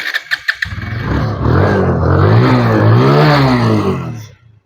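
An Apache RTR motorcycle engine starts with a few sharp cranking pulses, then settles into a steady, loud, close idle that rises and falls slightly before cutting off abruptly.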